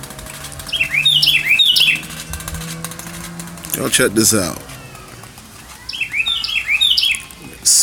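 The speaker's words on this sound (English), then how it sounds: "Got the bird over here making all that noise." A bird outdoors in nature gives repeated sharp chirps and calls in short bursts, loud and close, with someone speaking over parts of it and a brief rustling burst in the middle.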